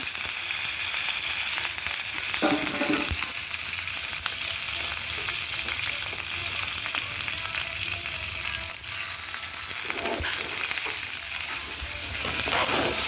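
Curry leaves and cumin seeds frying in hot oil for an eggplant and spring onion masala curry give a steady, close sizzle with a few sharper crackles and spatters, and no one speaks.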